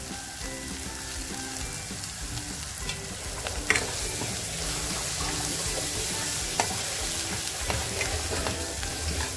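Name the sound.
sautéing mutton masala with turmeric in a pan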